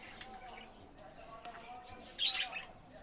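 Lovebirds squawk inside a large cage about two metres tall, with faint scattered chirps and a louder burst of squawking near the end, all fairly quiet.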